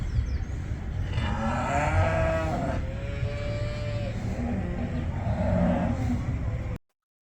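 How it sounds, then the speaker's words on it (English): Cattle in a truck moo loudly and repeatedly up close, long drawn-out calls over a rumbling engine, ending abruptly, in a parking lot waiting to board the MS Chi-Cheemaun ferry at Tobermory, Ontario. "There's even a truck full of cows,"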